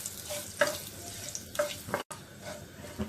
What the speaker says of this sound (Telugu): నూనె వేడైన తర్వాత జీలకర్రను వేసుకొని వేయించుకోవాలి.